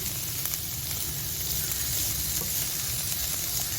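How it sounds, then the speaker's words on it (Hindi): Vegetables and peas fry in oil in a pan with a dense, continuous sizzle, loud and close, holding steady throughout with light stirring beneath it. "साथ में मटर भी डाल रही हूँ। इन तीनों को मैं हल्का सा फ्राई कर लेने के बाद निकाल लूँगी।"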